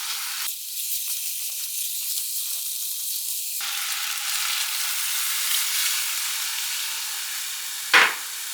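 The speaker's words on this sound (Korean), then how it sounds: "볶아주세요" Two cups of rice stir-fried in a pot give a continuous, close sizzle and hiss that swells partway through, ending with a sharp metallic clank near the end.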